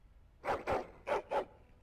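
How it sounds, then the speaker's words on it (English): A dog barks angrily in Dragon Age Origins: four loud, frantic barks in two quick pairs, with short gaps of quiet between them. "Frantic, angry barking."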